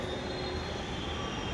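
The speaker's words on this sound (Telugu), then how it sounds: "మెట్రోలో పోతున్నాను ఇప్పుడు." A Mumbai metro train at a station gives a steady, loud rumble with a thin high whine running through it, continuous and without voices.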